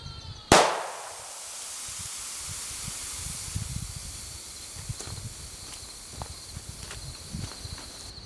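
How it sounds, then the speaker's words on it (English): A gunshot hits a car tire near the sidewall, giving one sharp, loud crack followed by a steady hiss of escaping air and faint shuffling outdoors. "All right, let's shoot it in the sidewall."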